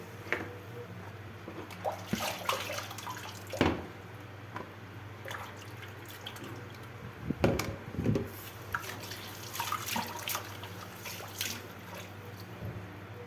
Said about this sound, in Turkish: Fasulyemi bir süzüyüm arkadaşlar